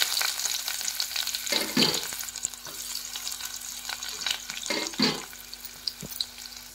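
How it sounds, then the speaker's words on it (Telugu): Onion pieces fry in ghee with a steady close sizzle, broken by a few louder stirring scrapes and clinks of a spoon against the pan, with no voices. "ఇప్పుడు ఉల్లిపాయల ముక్కలు వేసుకుందాము"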